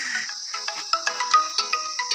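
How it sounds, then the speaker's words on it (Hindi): A mobile phone rings with an incoming call, a bright repeating electronic ringtone of quick melodic notes that plays loud and clear on its own. "ये देखो मम्मी फ़ोन भी आ गया।"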